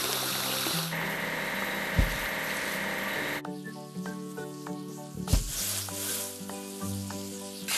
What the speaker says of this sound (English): We need to wash the locomotive.